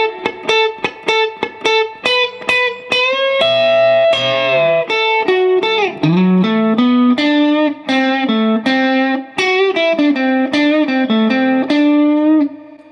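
Electric guitar lead in the style of a song's solo, played alone as a melodic run of picked notes and sustained bends, steady and close with no talking.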